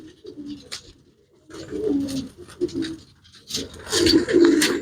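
Pigeons coo in low, throaty bursts close by, several birds calling in overlapping rounds with brief pauses between.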